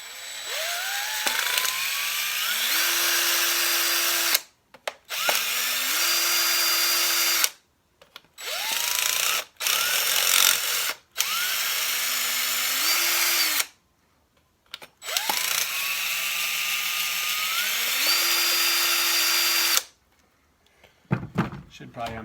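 A Heiniger Extra livestock clipper with a stripped gear runs loudly in repeated bursts, each spinning up with a rising whine before settling into a harsh, grinding drone, separated by brief silences, with clicks and thunks at the end.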